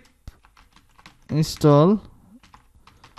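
Soft, scattered clicks of typing on a computer keyboard come through nearby, with a voice briefly speaking in the middle.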